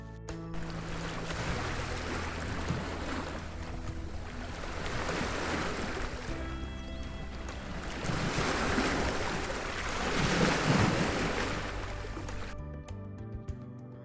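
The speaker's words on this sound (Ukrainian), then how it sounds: "море хвилюється" Sea waves roll in a steady low rush, swelling and fading in slow surges for about twelve seconds before cutting off.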